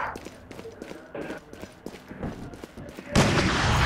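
Video game gunfire crackles in scattered close shots and short bursts, then a loud burst of noise at the end, with a player talking over part of it.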